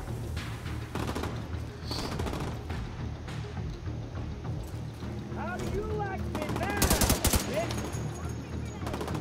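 Gunfire in the shooter The Division 2 rattles on in bursts of rapid shots, moderately loud and building toward a denser barrage near the end, with a voice talking over it.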